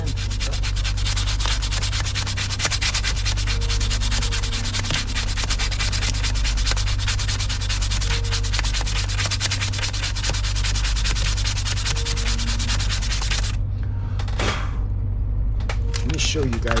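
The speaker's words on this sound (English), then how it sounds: "I want to actually sand this down now" Continuous, close rasping of sandpaper scrubbing the wooden hull of a 1:50 scale OCCRE Flying Dutchman model ship, steady back-and-forth strokes that stop near the end with a few handling knocks.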